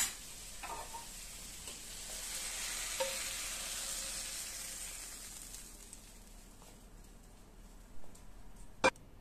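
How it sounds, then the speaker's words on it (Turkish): Beyti kebabs and cherry tomatoes fry in a pan with a steady, soft hiss and sizzle, punctuated by a few faint ticks and a sharp clink of a utensil near the end, with no talking. "beyti kebaplarımız bakın çok güzel bir şekilde kızardılar"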